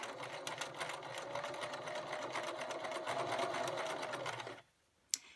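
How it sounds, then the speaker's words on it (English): A sewing machine runs steadily while edge stitching close to the edge of a fabric scrunchie. The motor whirs close for about four and a half seconds, stops abruptly, and a single sharp click follows. "Edge stitching is just stitching very close to the edge of the fabric."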